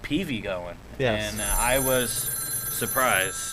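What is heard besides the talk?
telephone ringing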